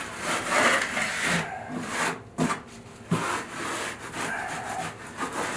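Trowel and hands smoothing Kerdi tile backer membrane over fresh mortar on a wall, giving continuous scraping, rubbing strokes with a few short pauses, close and moderately loud.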